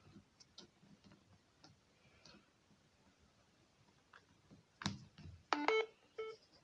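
A Samsung Galaxy A10 with a swollen battery is plugged in to charge and gives a brief electronic chime among faint clicks and handling taps nearby.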